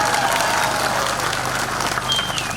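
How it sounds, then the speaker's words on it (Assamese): A crowd claps continuously at an Assamese political rally, the applause dense and steady throughout, mixed with general crowd noise and a brief high whistle-like tone near the end. "মাৰো হাত চাপৰি এটা"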